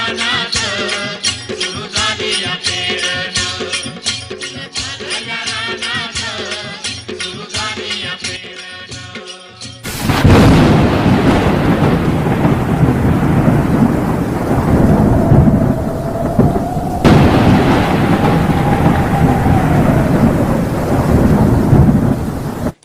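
An abrupt cut from a tonal, musical-sounding passage into loud, close downpour: heavy rain roars while thunder rumbles and cracks overhead.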